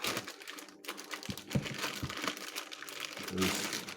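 Plastic bag crinkling and rustling, close and continuous, with a few taps and thumps mixed in as the wrapping is removed from a truck alternator.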